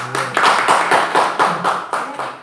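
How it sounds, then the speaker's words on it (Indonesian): A room of teachers claps for a colleague at a school training session, with brisk applause that swells and holds steady, close and loud, with no talk. "Aplaus untuk Bu Yit"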